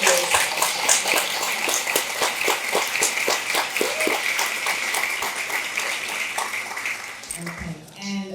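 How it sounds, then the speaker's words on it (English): A crowd applauds steadily with dense, sustained clapping that carries on for several seconds before tapering off near the end. "We can give Charles a big round of applause because Charles is retiring after 8 years."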